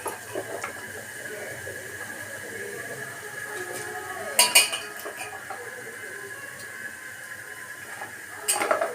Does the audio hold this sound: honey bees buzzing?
no